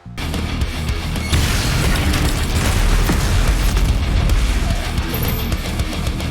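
Continuous booming explosions from DOOM Eternal, grenades and the Unmaykr weapon, loud and dense, layered with rumbling blasts and crackling debris with no break throughout.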